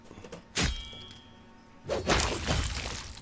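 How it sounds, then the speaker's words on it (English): A skeleton is smashed apart in Pathfinder: Kingmaker, two heavy crunching, shattering impacts with a whooshing burst about a second and a half apart over faint game ambience. "there goes one skeleton and a huge explosion of blood, even though they're bones"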